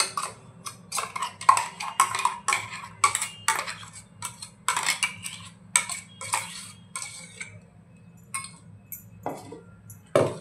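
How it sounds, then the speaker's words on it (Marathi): Ground ripe jackfruit and jaggery paste scooped out with a spoon into a bowl, giving a series of close clinks and scrapes of metal on vessel in irregular bursts over a low hum. "आता ते आपण एका भांड्यात काढून घेऊया।"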